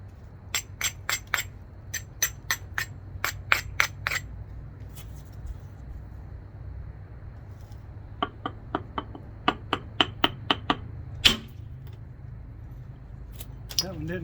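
Flint knapping with an Edbo ABO stick, thinning spalls: a series of sharp, bright clicks and cracks as flakes are struck off stone, coming in quick clusters with pauses between, close and crisp over a quiet low hum.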